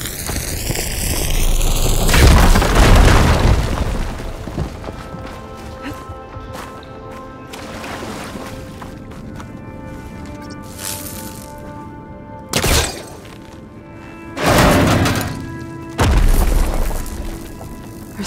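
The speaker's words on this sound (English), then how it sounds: "Should be able to blow up that fire glow." A fire glow blown up in the video game Horizon Forbidden West: a heavy blast and rumble near the start, then quieter ambience broken by several later sharp impact bursts, with someone speaking in between.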